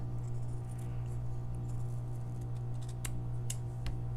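Scissors snip through poly burlap mesh, cutting it into rectangles for a dragon wreath, with a run of small crisp cuts against a steady low hum, the sharpest snips near the end.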